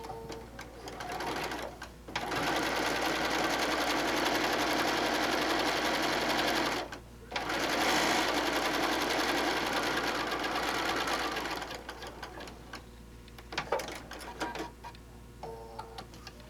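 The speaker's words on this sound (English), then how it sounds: "we'll do the top stitching on the second side" A sewing machine runs steady top stitching along the second side of a fabric pouch, two long continuous bursts of rapid mechanical stitching broken by a short pause, then lighter handling sounds at the end.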